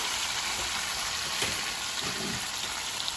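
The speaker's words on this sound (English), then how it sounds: "We're gonna dump them in, half the tomatoes. It's gonna make a big noise." Half the tomatoes for charro beans hit a hot pan, giving a steady, loud, hissing sizzle that fills the whole stretch, close up.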